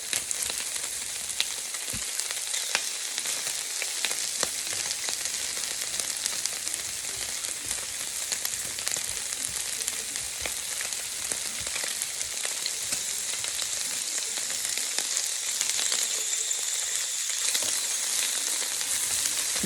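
Pieces of pork belly fry in a pan with a dense, continuous crackling sizzle, close and steady throughout, with occasional sharp pops of spattering fat and no voices.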